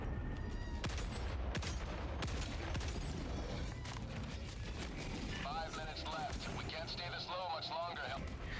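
Anti-material rifle in a video game emptying a full magazine: a rapid series of loud, booming shots with sharp cracks, followed by explosions and chaotic battle noise, with a voice talking over the action.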